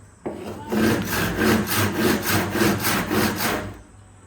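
A hand saw cuts through wood in steady back-and-forth strokes, about a dozen rhythmic rasping passes, close and loud, with no talking.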